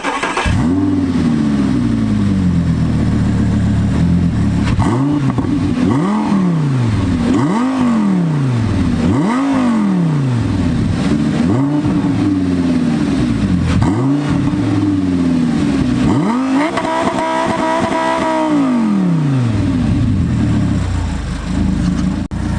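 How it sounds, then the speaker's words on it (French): An Audi R8 V10 engine idles, then is blipped again and again in sharp rising-and-falling revs, ending with one longer rev held before dropping back to idle. "Est-ce que tu peux nous faire écouter un peu le son du V10 là?"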